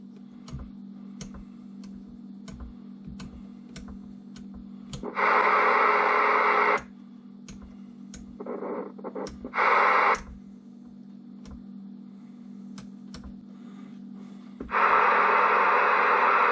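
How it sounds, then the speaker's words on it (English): A CB radio tuned to channel 19 in a workshop gives a low hum under regular ticking. Loud bursts of hissing static break in three times, and one fainter burst comes between them. No voices come through. "I think it's on channel 19 right now. Let's just listen a minute and see if we hear anything."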